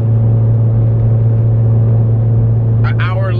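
A car drives along a road, its steady low engine and road rumble filling the interior continuously, with a brief burst of higher-pitched noise near the end.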